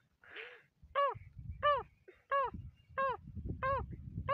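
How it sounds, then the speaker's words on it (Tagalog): A rapid series of six harsh, nasal calls of a male patika bird, evenly spaced and close, over a low background rumble. "Yan naman yung lalaking patika."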